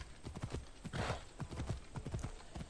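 Horse hooves clip-clop steadily throughout in Assassin's Creed Odyssey, with a brief whinny near the middle, all at close range and fairly loud.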